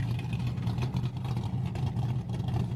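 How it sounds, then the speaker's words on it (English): A Chevrolet Corvette engine growls steadily near a street with police nearby, a loud, low rumble that holds throughout without clear rises or pauses. "this Corvette sounds nasty"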